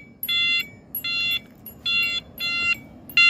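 A Tass Lock Defender V208 motorcycle alarm sounds a series of short electronic beeps, four to five evenly spaced bursts about two-thirds of a second apart, loud and close with no talking.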